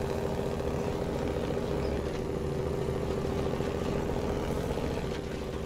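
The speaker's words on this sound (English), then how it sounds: "I'm still a massive fan of that engine sound." A truck engine in the off-road driving game Snowrunner drones steadily at a low idle-like rumble, constant and close throughout with no speech.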